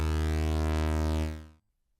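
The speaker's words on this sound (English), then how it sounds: "the main ones are things like a saw wave" A sustained analog synth oscillator playing a sawtooth wave, a bright buzzy tone rich in harmonics, holding steady for about a second and a half before cutting off to silence, loud and alone.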